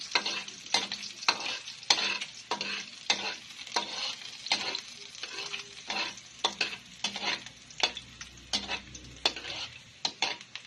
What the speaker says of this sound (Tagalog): At hahaluin na po natin.